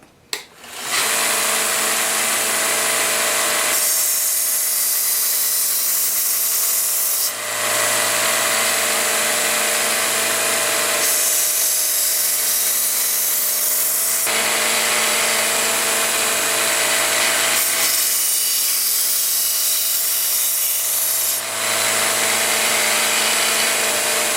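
A Vevor 1x30 belt sander runs with a constant motor whine while lathe chisels and knives are sharpened on it, its tone shifting roughly every few seconds as steel is pressed to the belt and lifted away, loud and close.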